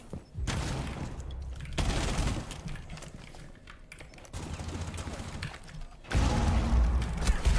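Gunfire from the video game Rainbow Six Siege rattles in dense bursts and heavy thuds through a busy in-game fight, loud and continuous with mechanical clatter and no talking.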